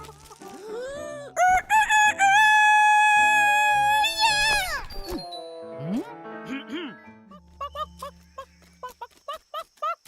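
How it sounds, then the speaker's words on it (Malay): A rooster crows loudly at close range, one long sustained call, followed by softer clucking and chicken sounds in a farmyard at morning. "Ayam selalu berkokok di waktu pagi untuk kejutkan kita bangun dari tidur."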